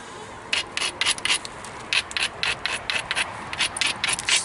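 Rhythmic scraping strokes as the edge of a flint arrow point made of Flint Ridge flint is ground, each short rasp repeated at an even pace, close and clear with no talk.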